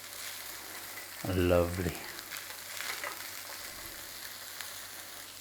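Mushrooms sizzle and fry in a pan as they are flipped over, a soft steady crackle with a brief louder stir near the start, and a voice speaks once.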